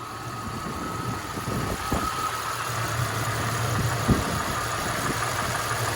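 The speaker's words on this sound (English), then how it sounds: "Sounds like a little bit of a lifter tick somewhere." A 1999 Jeep Cherokee XJ's 4-liter straight-six idles with a steady low rumble, a faint light lifter tick running through it, heard up close under the hood with no talking.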